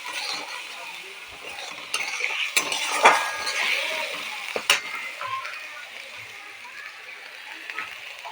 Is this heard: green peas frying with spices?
yes